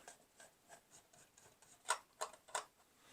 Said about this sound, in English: According to the instructions here, we have T8 screws. Unscrewing these.